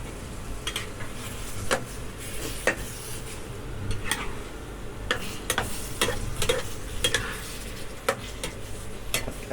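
An egg sizzling in a pan for stir-fried instant noodles, steady frying hiss with scattered clinks and scrapes of a utensil against the pan, close, no talk.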